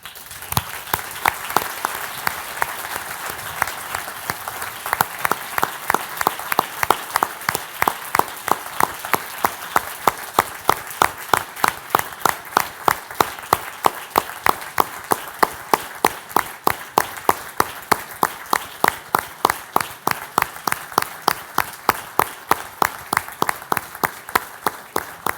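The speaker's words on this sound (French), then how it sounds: "je souhaiterais que nous lui rendions tous aujourd'hui peut-être un hommage par une salve d'applaudissements" A conference audience at a French ad-tech forum opening gives a sustained round of applause as a tribute, steady dense clapping that settles into a rhythmic, unison beat and continues for the whole stretch.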